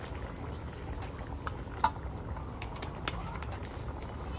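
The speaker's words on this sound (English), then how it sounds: "I'm gonna add more coconut milk, just a little bit." Coconut milk poured into a pot of Thai green chicken curry in a village kitchen. A faint, steady liquid trickle plays over low background noise, with a small splash partway through.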